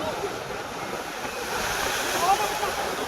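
Rough sea surf at Digha roars in a continuous wash of crashing water, loud and close, with wind buffeting the microphone.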